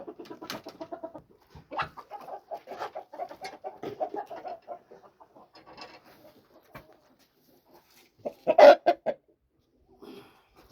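Purebred fighting roosters and hens clucking at a poultry sale in Tashkent district, where pigeons are also sold. Short, faint bursts of clucking come in loose clusters, then a louder squawk near the end, with quiet gaps between.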